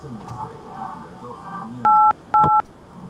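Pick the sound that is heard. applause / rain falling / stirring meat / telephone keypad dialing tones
telephone keypad dialing tones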